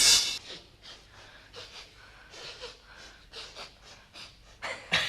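A dog pants with its tongue hanging out, a run of quick, breathy huffs and snorts close up, uneven in rhythm with brief louder gasps near the end.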